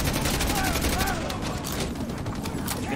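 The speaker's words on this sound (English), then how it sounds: "Getting shot at." Dense, continuous gunfire in a Call of Duty: Modern Warfare 2 Remastered campaign battle, a steady loud fusillade of overlapping shots with no breaks, under shouted voices and radio chatter.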